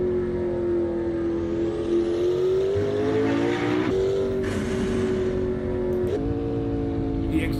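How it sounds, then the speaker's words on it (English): Race-car McLaren P1 GTR with turbos in the racing game Assetto Corsa, its engine droning steadily and climbing in pitch, with brief hissing blow-off bursts between shifts, loud and continuous. "A crazy blow-off valve on the turbos"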